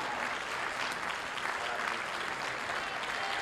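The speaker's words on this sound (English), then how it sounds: "This is a long round of applause." A crowd at a barista championship semi-final claps steadily in a long, even round of applause, heard from a moderate distance without letup.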